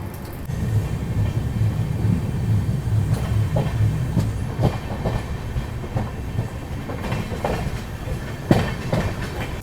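The Shri Shakti AC Express, running from Katra to New Delhi in dense fog, rumbles steadily on the rails with rhythmic wheel clatter and a few sharper clanks, loud and continuous, with no voices.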